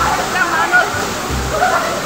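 Waterfall at Dinadiawan in Aurora Province, a steady broadband roar of falling water, loud and constant at close range, with brief low sloshing swells and no clear speech.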